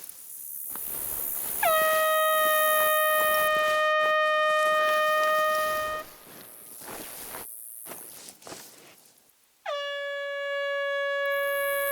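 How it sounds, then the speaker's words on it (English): A loud, steady air horn in theHunter: Call of the Wild blares for several seconds, stops, then sounds again after a short gap, with faint thumps and footsteps in between. "There's an air horn here"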